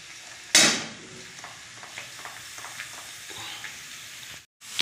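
Chicken fries in a pan as masala paste is stirred in, a low sizzle under repeated spoon scrapes and taps, opening with a sharp loud clang and ending with a brief silence.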